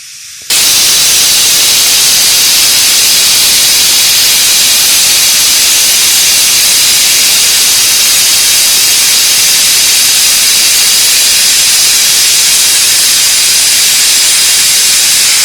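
A pressure cooker boiling lentils and potatoes lets out a loud, steady, unbroken hiss of steam that runs on at full strength after a short quiet start.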